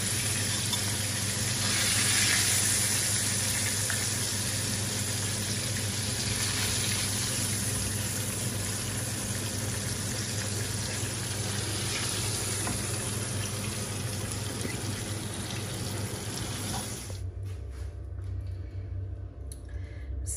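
Lahori-style cod fish frying in hot oil, a steady close crackling sizzle that runs unbroken for about seventeen seconds, then drops away abruptly to near quiet.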